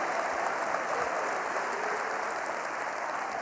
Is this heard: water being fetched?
no